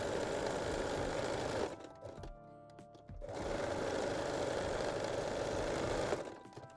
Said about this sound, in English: And secure the waistband edges with small zigzag